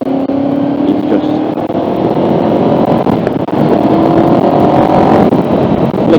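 Honda VFR750 motorcycle riding and shifting up through the gears, a steady loud engine drone with changes in pitch as each gear is taken, heard close over continuous wind rush.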